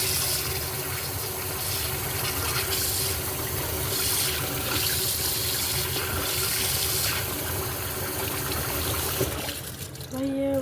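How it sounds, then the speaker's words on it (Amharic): Food is rinsed in running water until the water runs clean, a steady close splash from the tap with a brief clatter near the end. "እንደዚህ ውሃው ንጹህ እስከሚሆን ታጥቦትና ትጨምሩበታላችሁ"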